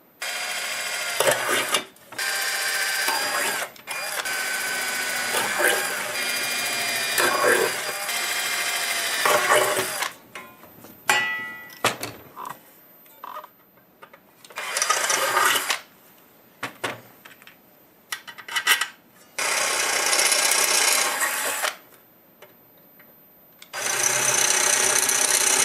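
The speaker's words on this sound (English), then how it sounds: "We're set for drilling." Bursts of mechanical whirring and grinding start and stop repeatedly, loud and close, with short pauses between runs of drilling.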